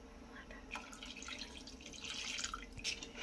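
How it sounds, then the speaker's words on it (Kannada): A glass of water poured into rice in a pan for jeera rice, a steady trickling splash at close range that swells slightly toward the end, with no voices. "1 ಲೋಟ ನೀರು ಸೇರಿಸ್ತಾ ಇದ್ದೀನಿ."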